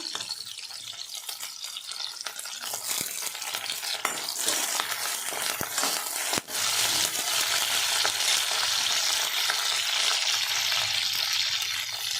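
Curry leaves hitting hot oil with green chillies, giving a loud, steady crackling sizzle with stirring throughout and a brief dip partway, no voices.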